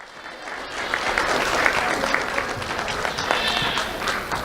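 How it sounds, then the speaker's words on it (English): Audience at a county sheriff's office awards ceremony gives a sustained round of applause, a dense wash of many hands clapping steadily throughout, with faint crowd murmur beneath. "Let's have a round of applause for Jason Herrera."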